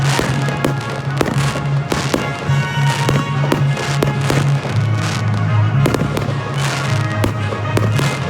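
Fireworks at Château de Vaux-le-Vicomte: a loud, dense string of sharp bangs and crackling bursts at irregular, rapid intervals over a sustained low rumble.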